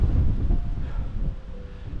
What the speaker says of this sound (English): Wind's moving pretty fast.